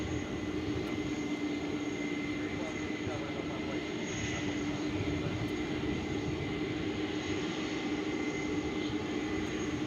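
An American Airlines jet at DFW airport produces a continuous engine roar with a steady tonal whine, holding constant and fairly loud throughout with little change in level.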